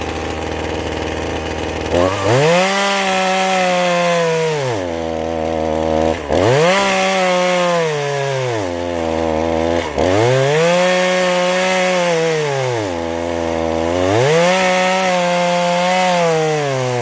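A Ryobi chainsaw without a working clutch cuts a small tree on a homestead, revving up and bogging down in four loud, close rising-and-falling surges.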